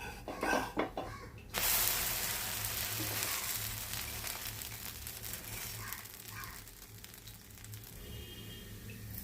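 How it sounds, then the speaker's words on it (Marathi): Amboli, an Indian rice pancake, frying in a pan: a sharp burst of sizzle kicks in after a few soft knocks, then holds as a steady close hiss with faint crackles, gently fading toward the end. "आंबोळी होत आली आहे, आपण ती पलटून घेऊया।"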